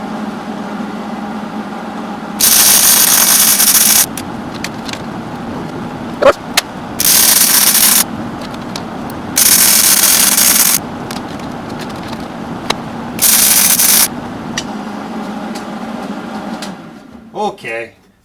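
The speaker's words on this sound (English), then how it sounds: "Welding it up." Arc welding a homemade tipping die for a Woodward Fab or Harbor Freight bead roller, four loud steady crackling bursts of one to two seconds each separated by pauses with shop noise.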